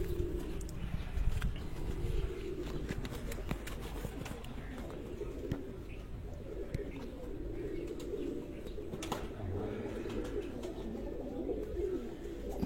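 Pigeons keep up a steady, rolling coo at close range, a continuous throaty murmur with scattered chirps, while wings flutter now and then and a voice speaks briefly.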